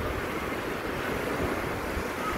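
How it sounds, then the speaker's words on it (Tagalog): Strong surf crashing on a rocky beach with big boulders, a steady continuous roar of breaking waves with wind noise, no voices. "Lakas ng alon"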